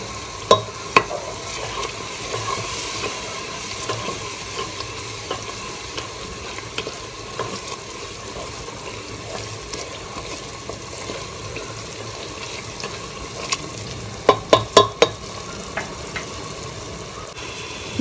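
Spice masala fries in oil in a pan while being cooked for stuffed brinjal, giving a steady low sizzle for the whole stretch, with occasional sharp clinks of a spoon stirring against the pan, clustered near the end.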